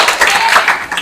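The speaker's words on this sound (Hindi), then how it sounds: "शाबाश क्लैपिंग।" Students in a class applaud a classmate honoured for weekly test results, a brisk patter of many hands with a voice talking over it.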